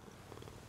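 A cat purring in the game Hades II, a soft, low, rhythmic rumble pulsing continuously and faintly under a hissy background.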